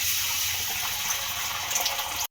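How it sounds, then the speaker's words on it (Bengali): Beaten egg is poured into hot white oil in a wok, giving a steady, bright sizzling hiss close by that cuts off abruptly at the end. "তেলটা বেশ কিন্তু গরম হয়ে গেছে এবারে ফেটে রাখা ডিমটাকে আমি দিয়ে দেবো"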